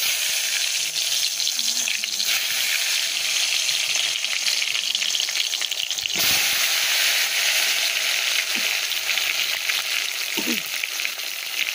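Pieces of food sizzling and frying in hot, smoking oil in a kadai, a loud, continuous crackling hiss close by, with occasional clatter and stirring bumps scattered through.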